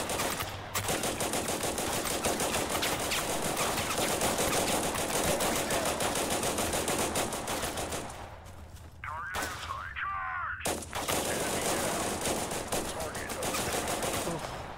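Sustained rapid machine gun fire rattles almost continuously from a soldier in the game Total Conflict Resistance, loud and dense, with a brief drop and a short pause near the end before the bursts resume.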